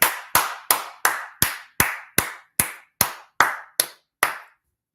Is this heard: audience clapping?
yes